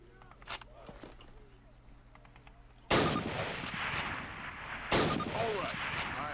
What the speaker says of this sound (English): Now fire two rounds at your target while aiming down your sight.